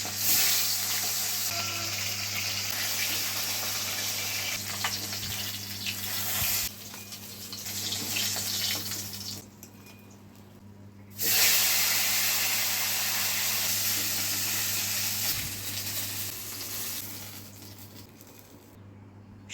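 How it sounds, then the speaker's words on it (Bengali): Fish frying in hot mustard oil in a kadai over a gas flame, for a drumstick curry: a steady broadband sizzle runs throughout, briefly dipping twice before swelling back, with a constant low hum beneath and no talk. "তেলটা ভালো করে গরম হয়ে যাওয়ার পর মাছগুলোকে ভেজে নিল"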